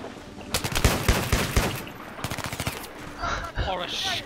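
Rapid automatic gunfire in Battlefield 3 during a Capture the Flag round on Sabalan Pipeline, loud bursts of close shots followed by scattered pops and game noise, with a player's excited voice over the top.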